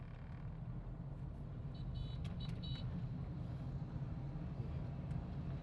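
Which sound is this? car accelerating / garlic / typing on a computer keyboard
car accelerating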